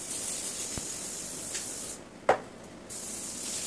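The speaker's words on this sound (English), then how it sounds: "now I'm going to spray some coconut oil on it." A steady hiss of aerosol coconut oil sprayed onto a pan runs almost continuously, with a brief pause and a soft click before the spraying resumes.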